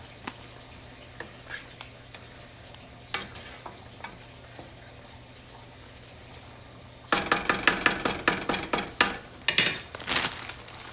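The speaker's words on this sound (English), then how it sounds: "Okay, that's boiling pretty good." Jamaican rice and peas boiling in a pot, with a spicy pepper added: quiet low bubbling and faint clicks at first, then from about seven seconds a louder run of crackling, popping bursts close by.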